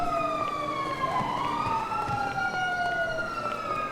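A police car siren wails with rising and falling sweeps during a chase, steady and moderately loud over passing vehicle noise and no speech.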